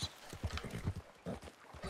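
Horse hooves clip-clopping in Red Dead Redemption II, a quick irregular series of soft, muffled thuds at moderate distance, fairly faint and without talk.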